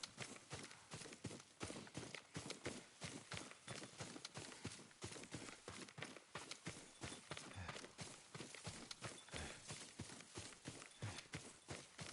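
Rapid, rhythmic hoofbeats of a horse clip-clopping steadily and close, a quick even trot throughout.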